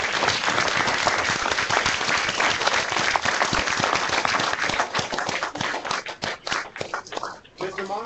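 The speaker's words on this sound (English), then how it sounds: "join me in giving a round of applause to Class of 2008 Pro Football inductee and Redskin great Art Monk" Loud, close applause greets a Pro Football Hall of Fame inductee at a morning event, dense individual hand claps forming a steady roar that breaks up and fades in the final second.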